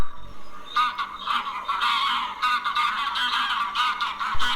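A goose honks repeatedly in loud, nasal bursts, close by and insistent, with no one speaking.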